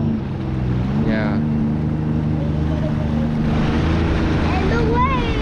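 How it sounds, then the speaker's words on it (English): A Sea-Doo Fish Pro motor drones steadily and grows slightly nearer, with wind across the microphone and faint chirps above the hum. "Wait, listen, the boat's coming."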